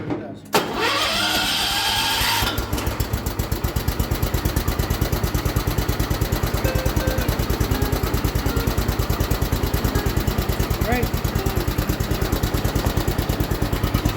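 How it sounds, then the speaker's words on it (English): A restored 1979 John Deere 216 lawn tractor engine cranks and fires up, then settles into a loud, steady, rapidly pulsing idle close to the microphone that runs on to the end of the clip. "Still full of engine oil, so let's get it fired up. Started it out."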